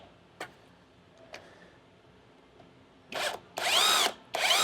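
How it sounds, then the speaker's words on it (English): A power drill drives bolts into an electric scooter motor while a solid 10x2.5 tyre is fitted: a few faint ticks, then three loud whirring bursts of the drill starting and stopping, close up, with no talking. "So you just drive all the 6 bolts."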